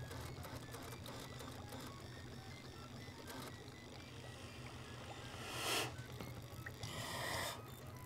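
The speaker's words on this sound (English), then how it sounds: "Wait, Thomas, you built a working 3D printer in your apartment?" A homemade 3D printer runs in an apartment, its small motors whirring in a low, continuous mechanical buzz with faint stepping ticks and a couple of brief louder swells, quiet and fairly close.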